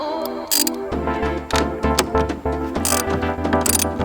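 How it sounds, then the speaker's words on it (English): A ratchet wrench loosens a 10 mm nut while a dash cam ground wire is installed, giving quick runs of mechanical clicks over steady background music. "you're gonna take a 10 mil and loosen up that nut"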